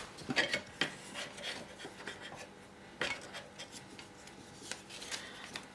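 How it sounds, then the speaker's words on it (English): Two red spatulas and other kitchen utensils are put away, giving a run of light scraping, rubbing and clattering knocks at an uneven rhythm, close and fairly quiet. "So I'll put my two lovely red spatulas there."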